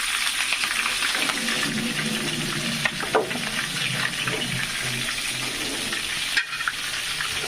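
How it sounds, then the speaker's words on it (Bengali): Chicken pieces for a roast frying in a home kitchen, a steady dense sizzle and crackle running throughout, with a few brief clatters of stirring or utensil knocks. "এই যে রোস্টের মুরগি ভাজা হইতেছে এখানে,"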